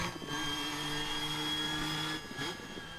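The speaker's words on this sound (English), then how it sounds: "Nice whine from the gearbox, straight cut gears of course." A steady mechanical whine from the straight-cut gearbox of a McLaren MP4/4 Formula 1 car in Assetto Corsa, sustained harmonic tones droning loudly and continuously, dipping briefly near the end before resuming.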